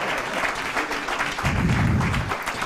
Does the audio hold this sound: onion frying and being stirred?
no